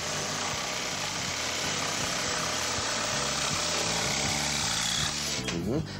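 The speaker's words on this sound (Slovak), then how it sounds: "Tak na to tu máme priamočiaru pílu, s ktorou dokážeme odrezať plác, hliník, plexisklo, kov, bežný." A jigsaw cuts through sheet metal close by, its motor buzzing loud and steady with a rapid rhythmic chatter of the blade, winding down at the very end.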